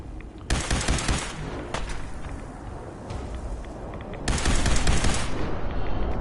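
Gunfire in Fallout 4 roars out in loud, dense automatic volleys. One burst opens the clip, the shooting fades, then a second heavy barrage returns near the end.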